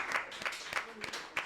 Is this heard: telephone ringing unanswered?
no